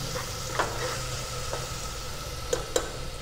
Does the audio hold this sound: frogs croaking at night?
no